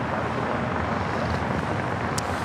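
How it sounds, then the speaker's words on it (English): An American Airlines Boeing 777-200ER touching down on the south side at LAX, a broad, steady jet roar with wind-like rush, fairly loud and continuous. "So we just had American Airlines 777-200ER coming in from Miami, Florida, touching down here on the south side"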